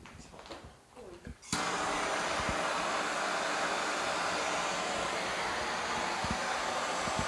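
A heat gun warming the clevis of a motorcycle rear shock to soften Loctite switches on after a moment of handling noise and then blows with a loud, steady, close roar to the end.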